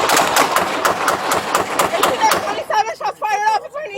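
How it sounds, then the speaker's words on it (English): A police shooting with a rapid volley of loud, close gunshots in a fast, evenly spaced string, ending abruptly before a voice shouts urgently. "27 shots fired."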